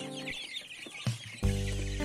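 Young chicks kept warm at night without a heat lamp, with soft clucking and peeping calls that build to a louder, sustained chicken vocalization near the end.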